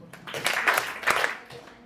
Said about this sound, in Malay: Tolong bagi tepukan 3 kali